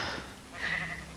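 A single sheep in Minecraft gives a short, close bleat that rises and wavers for about a second.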